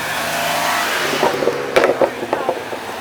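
A car with an LS engine at a summer car meet, rising in a couple of short revs over crowd noise, with faint voices nearby.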